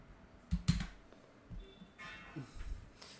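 Brief clicks of typing on a computer keyboard, a few scattered keystrokes, quiet and close, with soft clicks from other computer noise mixed in.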